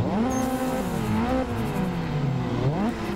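A Nissan Silvia S15 with an SR20 engine revs hard in the Assetto Corsa racing game, its pitch continuously rising and falling as the throttle is worked, loud and close with no talk.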